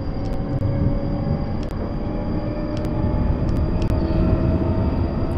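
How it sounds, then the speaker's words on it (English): A train in a video game accelerates to full throttle, a steady loud low engine drone that holds throughout with faint high ticks above it and no talk. "as I put up the throttle on the train, getting faster and faster"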